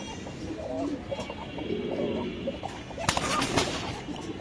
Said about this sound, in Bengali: এটা কি কবুতর? এটা হয়েছে আপনার হোয়াইট বাগদাদি।